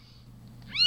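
A Japanese Bobtail kitten, a red and white female, lets out a single short rising meow near the end while being handled, close and fairly clear after a quiet stretch.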